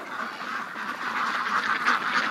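Domestic ducks in a barn on a very cold winter day give a steady, busy chorus of overlapping quacks and honks at moderate distance, with no talking.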